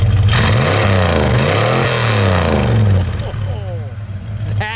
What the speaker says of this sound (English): Go ahead, give it a good rev.